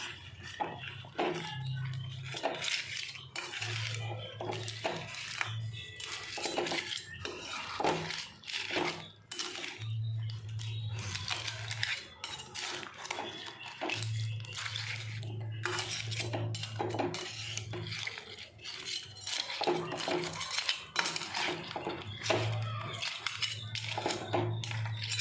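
Spoon stirring crab gravy in a pot, with repeated metallic scrapes and clinks against the pot in an irregular rhythm, close by and continuous throughout.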